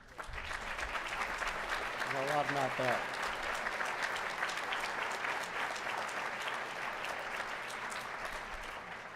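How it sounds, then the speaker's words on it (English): Sustained applause from a conference audience fills the room for the moderators and faculty who recruit players, steady and dense throughout, with a brief spoken remark rising over the clapping early on. "get a round of applause?"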